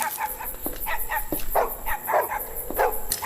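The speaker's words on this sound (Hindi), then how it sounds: "कुत्ते भौंकना शुरू हो गया।" Dogs bark in a rapid series of sharp, repeated barks at moderate distance, over a constant background hiss with no speech.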